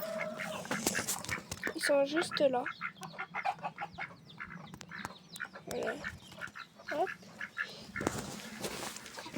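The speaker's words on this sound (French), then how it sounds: "Vous entendez les canards." Ducks quack in a rapid, nasal series nearby in a vegetable garden, mixed with bird calls, while a person speaks briefly over them.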